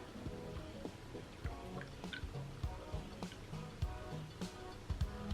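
Regular sweetened almond milk is poured into a measuring cup, giving close, soft gurgles and drips that repeat irregularly.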